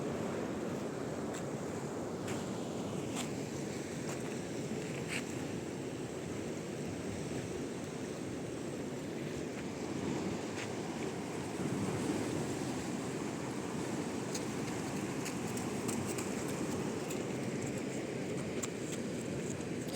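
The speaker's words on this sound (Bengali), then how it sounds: "ঢেউগুলো দেখতে কিন্তু বেশ ভালো লাগছে," Sea waves wash onto a sandy beach under a clear sky, a continuous broad surf roar with wind noise buffeting the microphone, steady and fairly loud with no one speaking.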